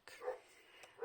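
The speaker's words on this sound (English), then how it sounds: "I apologise if you can hear the dog barking in the background." A dog barks in the background, two short yapping barks about a second apart, moderately faint and indoors-sounding, with no other sound around them.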